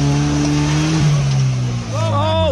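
A Jeep Grand Cherokee engine revs hard on an off-road climb, producing a loud, steady, close-up drone that holds for the whole stretch, with higher whining tones rising near the end.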